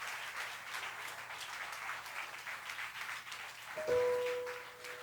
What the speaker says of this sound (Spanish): Denle un aplauso bien fuerte al Señor.